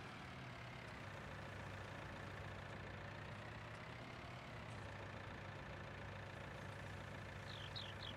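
A tractor engine idles in the video game Farming Simulator 19, a steady low rumble with an even mid-range drone that holds at constant volume throughout, with no talk over it.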